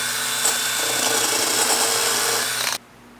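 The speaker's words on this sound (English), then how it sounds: "what I have now is one of these paint stripper attachments on my drill" A drill spins a paint stripper attachment against dried slime, giving a loud, steady buzzing grind that runs for nearly three seconds and then cuts off abruptly into quiet.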